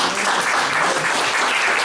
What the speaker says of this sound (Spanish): Le damos un fuerte aplauso a Jesús porque tuvo su licencia